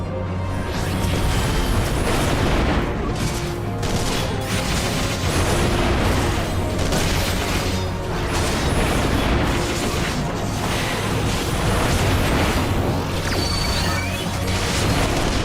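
Repeated heavy booms and crashing explosions in Final Fantasy XIV: A Realm Reborn, dense and loud throughout, with debris-like rumble filling the gaps.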